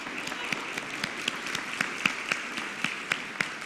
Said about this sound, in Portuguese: E uma salva de palmas